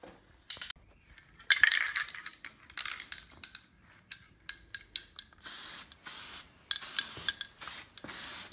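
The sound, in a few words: spray paint lightly applied to tyre lettering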